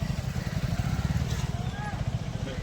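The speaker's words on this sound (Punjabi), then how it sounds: "ਇੱਕ ਪਾਸੇ ਦੀ ਮੋਟਰਸਾਈਕਲ ਸਕੂਟਰ ਲੰਘ ਰਹੇ ਆ" Motorcycles and scooters pass along a road where traffic is held up by a fallen tree, their engines a close, pulsing low rumble that stays steady throughout.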